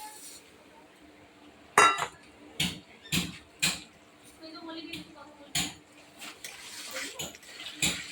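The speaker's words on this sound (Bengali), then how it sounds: "এবার ধুয়ে রাখা চালটা দিয়ে দেবো।" Washed Gobindobhog rice tipped into a pot with golden moong dal, heard as a series of scattered clinks and grainy pours against metal, fairly close, with a voice speaking between them.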